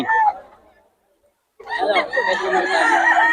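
A rooster crows loudly and close by, one long drawn-out call after a brief earlier squawk and a moment of quiet.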